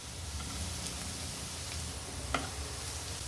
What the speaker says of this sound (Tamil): கேரட் வதங்கட்டும்.